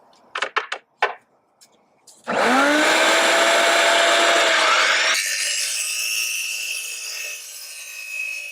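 A power saw cuts fiberglass gutter at a 22.5-degree angle. A few sharp clicks come first, then the blade bites in with a loud, sustained, whining roar that drops in pitch partway through and keeps cutting to the end.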